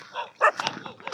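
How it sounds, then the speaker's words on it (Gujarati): A farm dog gives a couple of short, sharp barks in quick succession, fairly quiet and brief, with no talk over them. "આજે અમારા કૂતરા કેમ ભૂતા જો"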